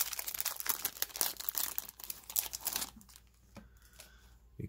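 Foil baseball card packs being torn open several at once, crinkling and crunching loudly up close for about three seconds before trailing off into faint handling rustles.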